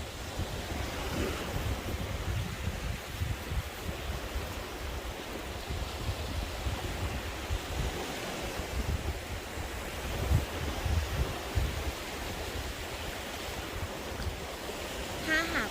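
Ocean waves washing onto a beach, a steady rushing surf with wind noise across the microphone, continuous and fairly even throughout with no talking.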